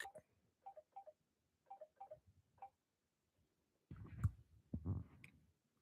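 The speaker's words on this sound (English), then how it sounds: "Oh, and this is her calling back." An incoming call rings on a phone as faint, short electronic tones in pairs, followed by quieter rustling and handling noise.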